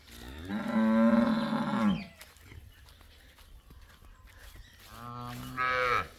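Calves bawl inside a cattle barn: two loud, drawn-out moos close by, one near the start and one toward the end, with quiet barn shuffling and faint knocks in between.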